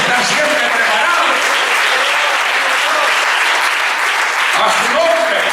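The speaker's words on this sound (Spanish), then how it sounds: "Dele fuerte ese aplauso al Señor." A church congregation claps loudly and continuously throughout a Spanish-language sermon, with a voice speaking over the sustained applause.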